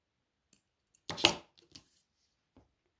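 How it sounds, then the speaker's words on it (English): Scissors snip crochet yarn in one sharp close cut, followed by a couple of faint light clicks in an otherwise quiet room. "Once you've done your 6th invisible decrease, you want to cut your yarn"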